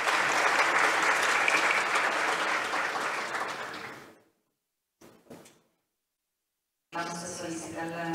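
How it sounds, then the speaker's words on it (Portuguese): Applause fills a conference room for about four seconds, then fades out. A couple of brief knocks follow in near silence before a voice starts speaking. "Um aplauso, por favor."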